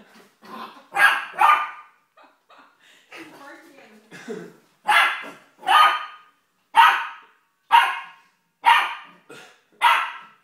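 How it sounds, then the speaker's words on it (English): A puppy barks sharply at its reflection in a mirror, a run of about six evenly spaced yaps, close and loud, after a few softer whines and a person talking at the start. "Who is that ferocious dog?"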